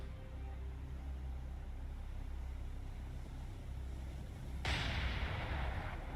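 Naval guns fire on a Japanese Yugumo-class destroyer in the War on the Sea naval combat game, heard as a steady low rumble that gives way to a sudden louder, harsher burst of gunfire near the end.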